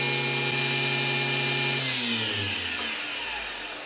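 A DC spindle motor on a CNC lathe runs at full speed with a loud steady high-pitched whine and hum, then winds down, its tone sliding lower toward the end, close and alone.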